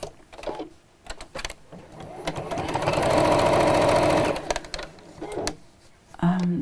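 A sewing machine stitching fabric runs in one short steady burst of rapid needle chatter in the middle, with a person talking before and after it.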